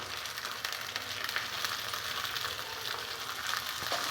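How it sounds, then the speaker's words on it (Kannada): Kasuri methi and beans roast in a hot pan with a dense, steady sizzle and crackle that stays fairly loud and close throughout, with no voices. "ಕಸ್ತೂರಿ ಮೇಥಿ ಸ್ವಲ್ಪ ಹಾಕಿ ಹುರ್ಕೊಳ್ಬೇಕು ಇದು ಸೌರೆಕಾಳು ಹಾಕ್ಕೊಳ್ತಾ ಇದ್ದೀನಿ"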